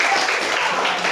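Children and a teacher clap together in a classroom, a brief steady burst of close hand-clapping with some voices mixed in.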